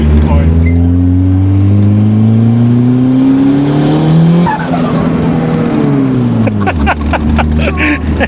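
Turbocharged Honda Civic with a short 8-inch pipe, loud engine drone with rising revs and a fluttering turbo chatter as the throttle lifts, close and constant throughout.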